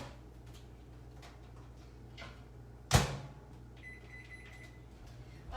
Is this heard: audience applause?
no